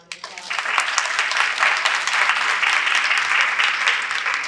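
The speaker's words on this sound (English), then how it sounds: "So one more round of applause." An audience at an education panel breaks into steady, close applause that swells quickly and holds evenly for several seconds.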